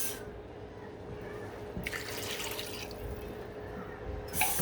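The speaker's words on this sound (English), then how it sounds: "the only thing left is to fill it with water" Water runs and splashes into an Instant Pot over beef for birria-style tacos, a continuous trickling pour with louder gushes partway through and near the end, no talk.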